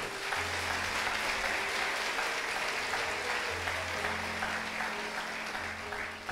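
Sustained applause from a large church congregation during a worship service fills the room, a dense continuous clatter of clapping with a low hum underneath.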